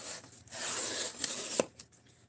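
A freshly sharpened Terminus XR knife slices through material with a close, raspy scraping hiss broken by a few short sharp snicks as the edge cuts.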